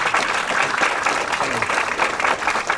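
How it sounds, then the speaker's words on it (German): Applause from an audience greeting martial arts grandmaster Frank Dux, a dense, steady wash of clapping that fills the whole stretch at close, even loudness. "Ein Applaus für Frank Dux!"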